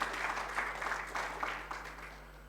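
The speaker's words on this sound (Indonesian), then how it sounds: "tepuk tangan." A church congregation claps briefly during a worship service, a soft, fairly distant patter of many hands under a steady electrical hum, fading toward the end.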